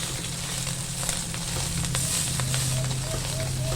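Egg frying in a pan over low heat, a steady close crackling sizzle with scattered pops throughout.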